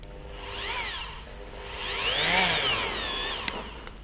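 A Parkside electric paddle mixer churns refractory mortar in a bucket, its motor whining loud and close in two surges that rise and fall in pitch, with a short lull between them and no talking.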